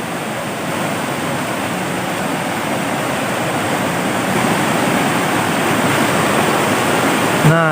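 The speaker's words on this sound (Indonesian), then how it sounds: "Ini dia sungainya teman-teman." A forest river rushes loudly and continuously, a dense, steady roar of flowing water close by with no pauses.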